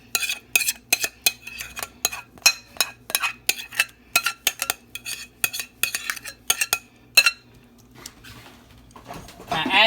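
A spoon clinks and scrapes against a deep-dish quiche pan while scooping out chicken and broccoli quiche filling, a quick run of sharp, close taps in a quiet kitchen.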